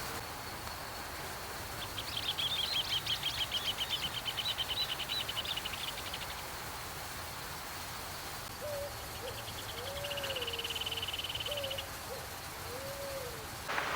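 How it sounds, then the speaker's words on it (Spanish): A great kiskadee calls near a stream by the Río de la Plata, its bright repeated notes coming in two short bursts at a moderate distance over a steady hiss of insects and water. "Solo encontramos un venteveo en ese sitio."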